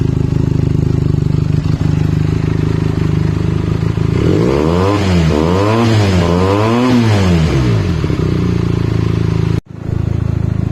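Benelli TNT 300 motorcycle with an IXIL X60 exhaust fitted with a dB killer idles steadily, then is revved in a few rising and falling blips before settling back to idle and cutting out.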